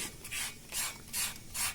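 Sandpaper rubs over an alabaster stone carving in four even, rhythmic strokes, close and fairly quiet with nothing else heard.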